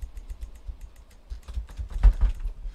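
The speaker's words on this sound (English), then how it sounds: "You can probably hear in the background my keyboard getting smashed to pieces here." A computer keyboard is hammered hard during a Crusader Kings 3 gaming session, a fast, close clatter of keystrokes with a few louder smacks near the end and no voice.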